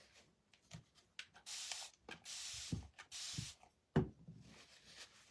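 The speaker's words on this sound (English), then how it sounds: "Spray all of that again with the water." Several short bursts of hissing spray mist water onto a wooden heart craft kit, close and fairly quiet, separated by soft handling knocks and pauses.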